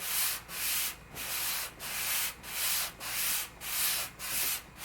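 Steady back-and-forth sanding strokes on a guitar neck and fretboard being flattened during an Egmond archtop repair, eight rhythmic rasping passes close up with short pauses between, no talking.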